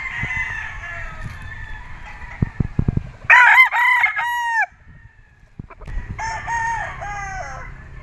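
A red Kelso gamecock crows in clear, loud calls at a gamefarm, with another crow following after a short pause, over low background noise and a few sharp knocks.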